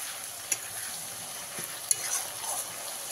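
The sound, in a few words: ginger-garlic paste being stirred and fried in a pan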